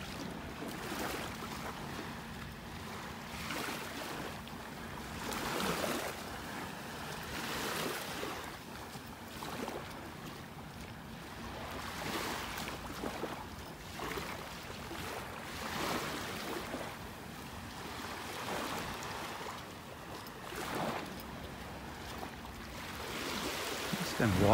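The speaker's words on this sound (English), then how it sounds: "let you enjoy the sounds of the waves" Ocean waves wash onto a beach in North Naples, Florida, a steady broadband surf with repeated swells rolling in every few seconds, moderately loud with faint wind.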